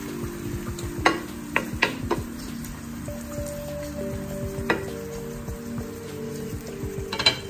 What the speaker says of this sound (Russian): В сковородке разогреваем оливковое масло, добавляем заранее порезанный лук.